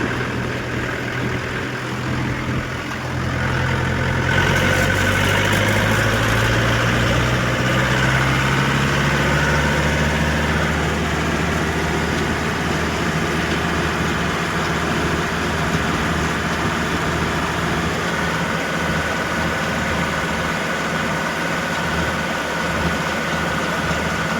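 A tractor engine idles steadily nearby, a continuous low rumbling drone with a slight shift in pitch, no voices.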